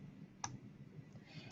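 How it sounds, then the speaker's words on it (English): A single quiet computer mouse click at a desk, sharp and brief against faint room hiss, with a possible second soft click at the very end. "Now I'm going to click this Add button"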